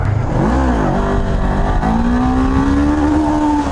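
Honda CB500F motorcycle engine revving hard as the rider accelerates into a wheelie, a loud, close, continuous rising engine note with steady harmonics climbing in pitch, no talking.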